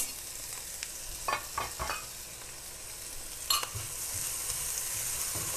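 Chopped onion fries in a pan for a burrito bowl under a constant hiss of sizzling, with a few brief scraping stir strokes near the start and again midway.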